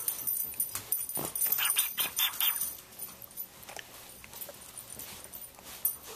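A small child makes dog-like panting and whimpering noises, imitating a dog in short bursts at close range, with a few breathy yelps and some background rustle.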